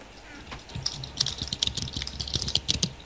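Computer keyboard typed on during Minecraft play: quick irregular bursts of close, crisp key clicks, with brief talking in the background.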